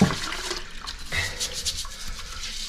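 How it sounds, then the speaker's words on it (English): A toilet freshly dosed with bleach is flushed, making a steady rushing wash of water that swells midway and continues without talking. "Let me flush that."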